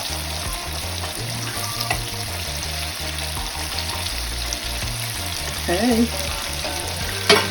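Chicken pieces deep-frying in hot oil give a steady, close bubbling hiss throughout, with a brief clatter near the end and a single word spoken.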